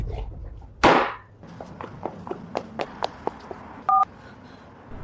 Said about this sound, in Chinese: 您拨打的电话已关机